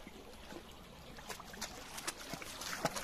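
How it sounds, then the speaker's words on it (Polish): A small Polish river with drinkable water flows softly and steadily, a quiet close trickle with faint splashes rising now and then, no voices. "Znajduję się nad rzeczką, z której można pić wodę."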